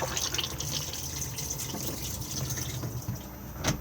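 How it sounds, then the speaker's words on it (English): A Thetford cassette toilet flushing inside an Elddis Majestic 175 caravan, a steady close rush of running water with faint gurgles and a small splash near the end. "push to flush on top,"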